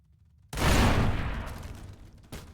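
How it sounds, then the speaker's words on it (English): Gunshots from a gun in the People Playground sandbox game: a sudden loud blast opens a dense burst of firing that rings and slowly fades, followed by a second sharp shot near the end. "if this guy has a gun, he's gonna shoot himself"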